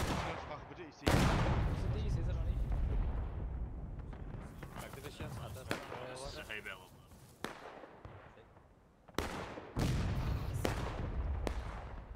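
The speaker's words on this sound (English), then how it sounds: "It's like some other arty is going off now" Artillery cannon fire in a War of Rights battle, with several heavy booms and long rumbling decays, loud blasts near the start and again toward the end, a continuous low roar of battle in between.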